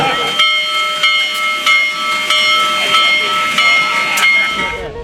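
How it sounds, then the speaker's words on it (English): Big Boy, the world's largest operating steam locomotive, hissing steam; loud, close, continuous hiss with tonal whistle-like overtones and periodic bursts, fading near the end. "It is world's largest operating steam locomotive."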